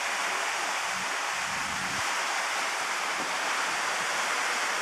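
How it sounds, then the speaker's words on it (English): Water churning behind a boat heading out into mist in Alaska, a steady broad rushing wash at close range, constant and loud, with no talk. "See the water churning."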